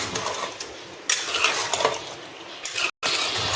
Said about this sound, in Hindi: अभी पहले मसाले को अच्छे से भून लें, तेज गैस करके